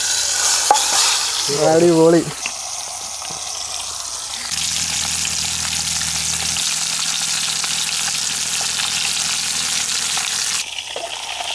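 Fish goes into hot coconut oil in a pan, starting a loud, steady sizzle and crackle after a brief clatter, with a short spoken exclamation early on.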